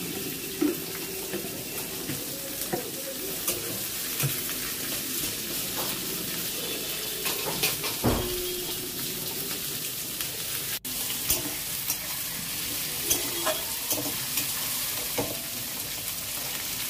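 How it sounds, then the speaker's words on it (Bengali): Onion fries in a pan after garlic, a continuous close sizzle broken by frequent clicks and scrapes of stirring, with one sharp knock midway. "পেঁয়াজটা ভাজা হবে একটুখানি অল্প"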